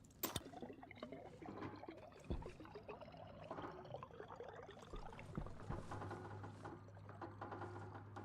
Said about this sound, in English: Must be liquids in the pipe.